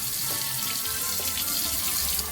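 A sink fills from a running faucet as water is run for washing doll clothes, giving a steady, loud splashing rush that continues without a break throughout.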